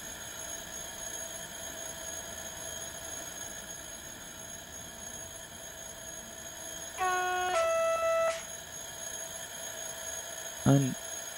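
An alarm bell on a signal box desk in the SimRail railway simulator rings briefly as a steady, stacked electronic tone, standing out clearly over a constant low hum, then stops abruptly.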